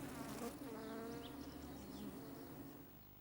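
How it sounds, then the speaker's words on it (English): Bees buzz steadily in a country cottage garden, a dense drone that holds for a few seconds and fades slightly at the end. "Bees,"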